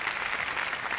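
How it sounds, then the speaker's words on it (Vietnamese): Puppet audience in the Paper Bride 5 video game clapping in applause, a steady dense patter of many hands sustained at moderate level throughout, with no voices. "nó vừa xem mình xong nó vỗ tay hoan hô"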